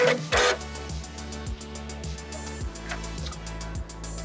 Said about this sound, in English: Needle threader button once more.